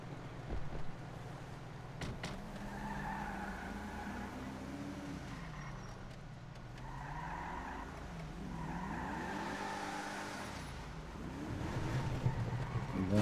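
An engine revs and whines up and down steadily, with tire skids and squeals, as a car is driven hard in FiveM, a Grand Theft Auto V roleplay game.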